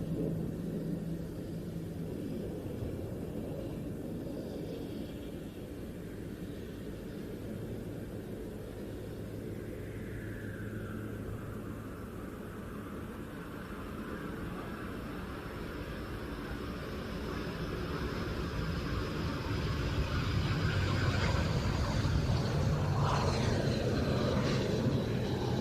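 A Greek Air Force Mirage 2000-5 jet arriving at an air show, heard as a steady distant engine roar that swells louder and harsher toward the end, with no talk over it.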